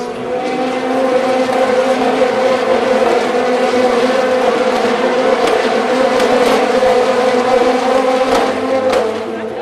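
A steady, loud engine drone fills the whole stretch as LMP2 prototypes and GT cars race past at Le Mans in 2026, with no clear peaks from individual cars.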